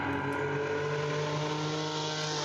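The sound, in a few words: race car engine at Summit Point Raceway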